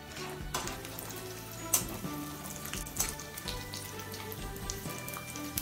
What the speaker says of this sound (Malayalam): നന്നായിട്ട് ചൂടായതിന് ശേഷം 100 ഗ്രാം കാഷ്യൂ നമുക്കിട്ട് ഫ്രൈ ചെയ്തെടുക്കണം.